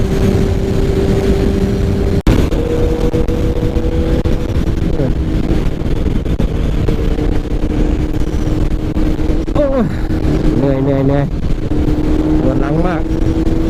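Continuous engine drone and wind rush from a Honda CBR650F ridden along a highway, heard close and steady with a few pitch swoops as the revs shift, while a rider talks intermittently.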